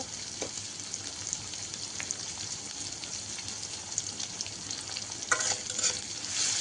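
Malabar spinach frying with salt and turmeric while it is stirred, a constant hissing sizzle with light scraping and a few louder stirring clatters near the end.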